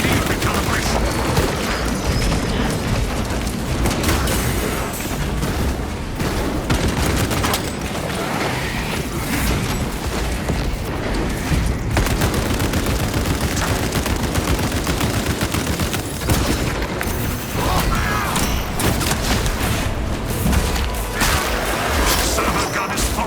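A Techmarine's servo harness gun fires in a Warhammer 40K game, with dense, continuous rapid gunfire and heavy booms filling the whole stretch, and a voice speaking intermittently through the din.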